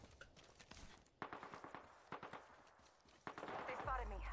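Gunfire in the Apex Legends video game, several sharp bursts of shots and rapid rattling volleys of moderate loudness, mixed with other game sounds and muffled talk.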